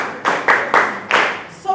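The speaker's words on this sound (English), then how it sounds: "Clap for him." A few loose, separate claps from an audience in a classroom-style reading session, four or five distinct hand slaps spaced unevenly, fairly close and short, rather than sustained applause.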